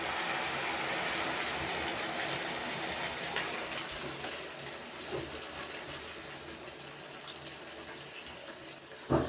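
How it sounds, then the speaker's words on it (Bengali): Water poured into a pot of mutton curry, a steady broad gushing pour running throughout at close range with a brief louder splash near the end. "চলো জল দিয়ে দিচ্ছি মাটনটা একটু।"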